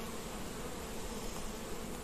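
Honeybees buzzing at an open hive of a large colony in an apiary, a soft, continuous, dense hum that stays even throughout.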